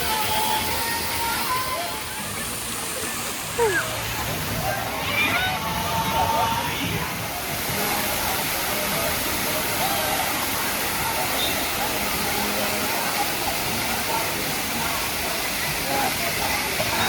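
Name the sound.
water spraying at water park rain dance area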